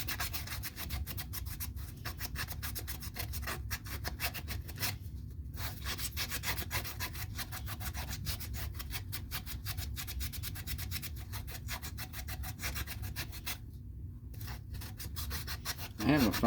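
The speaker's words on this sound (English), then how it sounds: "Might sand it a little more and see if I can get it to look a little better." A leather western holster is sanded by hand, giving a continuous, close scratchy rubbing with fast, even back-and-forth strokes and two brief pauses.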